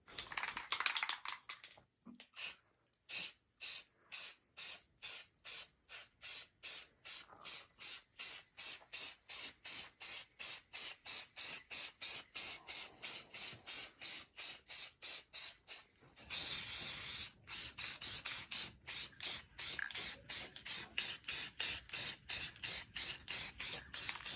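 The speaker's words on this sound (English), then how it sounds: "So we're gonna spray paint this one." A spray can coats a deer skull white for a euro mount in dozens of short, evenly spaced hissing bursts, then gives one long continuous spray near the end, all close up and without talk.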